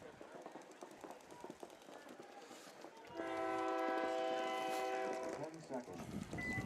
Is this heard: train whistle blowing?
yes